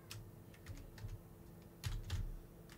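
Typing on a wireless computer keyboard: soft, irregular clusters of key clicks at close range, with a low steady hum underneath and no talking.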